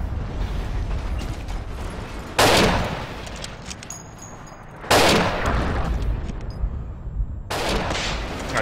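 Rifle gunfire in the video game Forgotten Hope 2, three loud, sharp shots spaced a couple of seconds apart, each ringing out over continuous battlefield rumble and distant firing.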